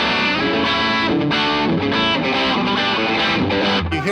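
An electric guitar plays dense chords through a new Fender effects pedal with its blend knob turned toward the brighter side, giving loud, close, distorted tones with no speech.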